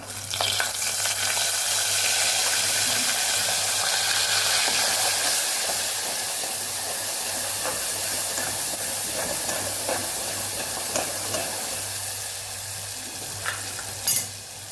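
Spices, with curry leaves, sizzle and crackle steadily in hot oil as a tempering in a pressure cooker for dry potato curry, a loud continuous frying hiss with occasional sharper pops, no voices.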